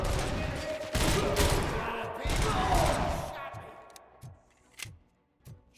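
Bursts of video game gunfire from RoboCop rattle loud and dense for about three seconds, then thin out into a few scattered distinct shots.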